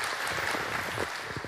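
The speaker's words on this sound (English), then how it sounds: "Applause." An audience at a business talk on SaaS conversion and retention gives a short round of dense, steady clapping at moderate volume.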